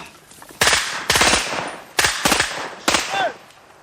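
Gunfire in a video game comes in four loud, sharp bursts of rapid shots, each followed by a brief pause, with no talking.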